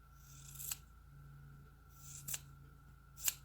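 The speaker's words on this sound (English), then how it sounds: "So let me trim this by hand." Scissors snip quilt binding by hand, three separate sharp cuts spaced about a second apart over a low steady hum, close and fairly clear with no talking.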